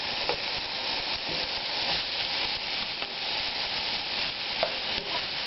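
Steaks fry in a hot pan with a steady, close sizzle and crackle of spattering fat, continuing alone without a break.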